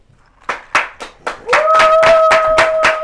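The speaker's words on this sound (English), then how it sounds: "baby, give me a clap." A single person claps hands in a slow, steady rhythm, about ten sharp claps spaced roughly evenly, close and loud, with a sustained tone sounding underneath the later claps.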